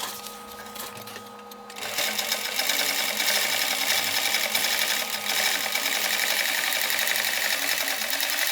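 A sewing machine stitches seat upholstery for a square-body truck bench seat, starting softer and then running continuously with a steady, close mechanical whir.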